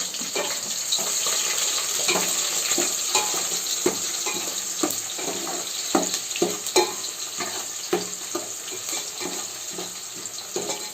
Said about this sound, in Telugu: ఉల్లిపాయలు వేయించడం జరుగుతుంది.